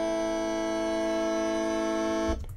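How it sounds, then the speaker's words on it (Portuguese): A synthetic truck-horn tone generated in Adobe Audition, one steady, loud, buzzy sustained blast held for over two seconds before cutting off abruptly. "É só uma buzina, né? Um caminhão"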